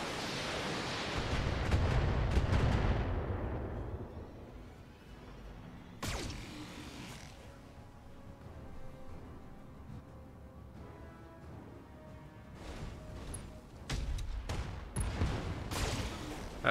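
Heavy AC-20 autocannon fire slams into turrets in the mech game BattleTech, a rumbling booming barrage that fades out before sharp new impacts burst in later, loud and without talk.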